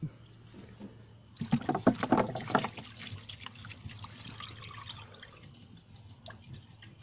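Engine oil pouring and splashing out of a 1986 Renault Super 5 GTL 1.1 during an oil change, with a sudden burst of trickling, dripping liquid that eases into a steady, quieter flow.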